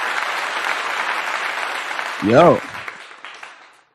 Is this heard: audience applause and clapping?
yes